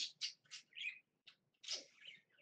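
Bird chirps in a rapid series of short bright calls, then a longer squawking note, fairly faint and close with no talk over them.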